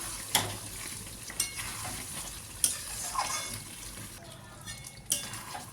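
Fried potatoes being stirred and sautéed in a spice masala for a vegetarian Kashmiri aloo dum, giving a steady soft sizzle with a few sharp scrapes and clinks of the spoon against the pan at irregular intervals.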